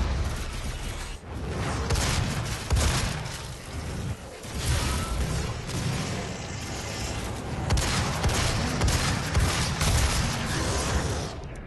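Rapid gunfire from the video game Doom, a dense, continuous barrage of shots and booming bursts that runs loud and nearly unbroken, with no talking over it.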